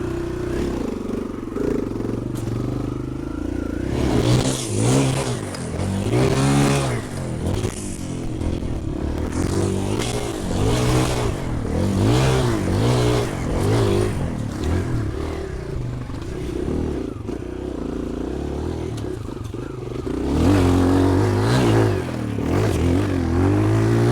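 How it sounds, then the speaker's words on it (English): A Kawasaki KLX dirt bike out in a field for wheelie practice, its engine revving up and down in repeated surges, fairly close and steady throughout with no talking. "So I've got the trusty Kawasaki KLX out, some fuel in him. It's off to the field for some wheelie practice."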